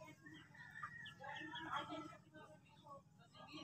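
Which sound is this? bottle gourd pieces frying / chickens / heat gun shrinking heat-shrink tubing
chickens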